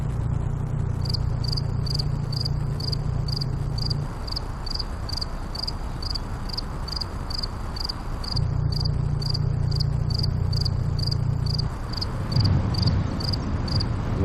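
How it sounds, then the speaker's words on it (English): Steady, rapid cricket chirping repeats evenly throughout, a high pulsing trill over a low background hum that fades in and out. "Maybe we can run some cricket sounds"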